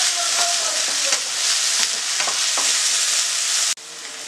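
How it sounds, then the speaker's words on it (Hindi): Onions frying in a pan over a medium gas flame for a bhindi masala gravy, a steady close sizzle broken by stirring scrapes, with a brief dip near the end. "प्याज को तकरीबन 3 मिनट अच्छी तरह से भूनना है मीडियम फ्लेम पर"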